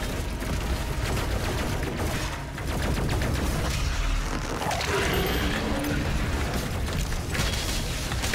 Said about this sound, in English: Look at that fucking explosion of shit here.